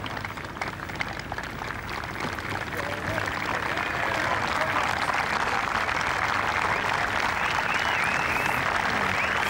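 Golf fans lining the 18th fairway at the 2002 WGC-American Express Championship applaud steadily, a broad wash of clapping that swells and grows denser toward the end, with a commentator's voice faintly underneath.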